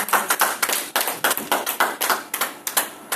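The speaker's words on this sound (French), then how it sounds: "Est-ce que nous pouvons acclamer pour le roi des rois?" Church congregation applauding, a dense, near burst of many hands clapping in a steady pulsing rhythm, with no talking.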